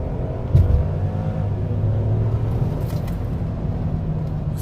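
A 2017 Mercedes GLS450 SUV picks up speed from a low pace, with a steady low engine rumble and road noise heard from inside the cabin, holding an even level throughout.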